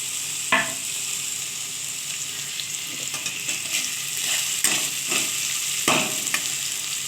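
Mixed vegetables with curry leaves frying in oil, a steady close sizzle running throughout with a few sharp clicks and scrapes of a utensil against the pan.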